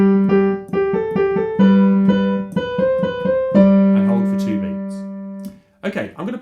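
Piano plays a passage from Mozart's Eine Kleine Nachtmusik with both hands, repeated treble notes over held low notes in a clear, close, moderately loud phrase, followed by a voice speaking briefly at the end.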